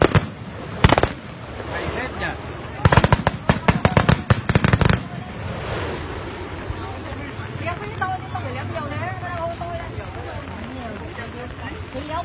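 Firecrackers bursting during a village clash with mobile police in Thai Nguyen, a loud single bang followed by rapid crackling strings of explosions, then a noisy crowd with people talking and shouting.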